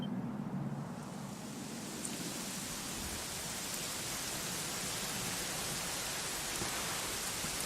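Steady rain pours down in the game Dragon Quest XI on PS4, a dense, even hiss that stays loud and unbroken throughout, with no voices.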